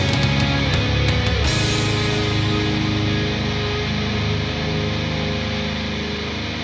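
Song with guitars and drums as the second chorus ends just before the breakdown, a dense full-band wash that thins and fades out gradually.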